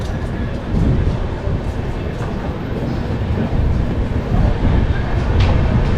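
Swatantrata Senani Superfast Express pulling out of a station, with a steady low rumble of the rail cars and wheels that swells in waves and stays fairly loud throughout, a little background voice mixed in.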